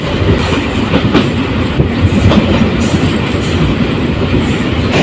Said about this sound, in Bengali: সামনের দিক থেকে আরও একটি ট্রেন আসছে